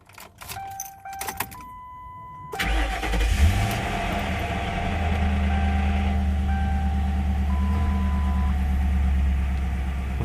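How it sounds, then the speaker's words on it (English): Keys jangle in a quiet setting, then a Ford Crown Victoria's engine cranks and catches with a rev before settling into a steady, loud, close idle that continues to the end. "So we'll turn the car on, get it off the ramps, and then let it run for a few minutes."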